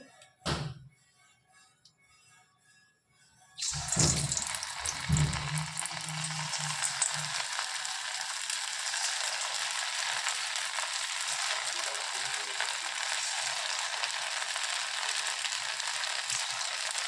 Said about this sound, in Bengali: এভাবে করে আমি দেখো ভেজে নিচ্ছি